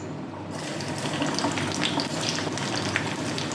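Finely chopped garlic dropped into hot ghee, a dense continuous sizzle and crackle that starts abruptly and stays loud and close.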